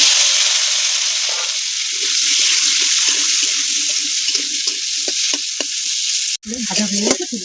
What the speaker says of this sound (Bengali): মাছ ভাজার তেলে আলুগুলো ভালো করে ভেজে নেব।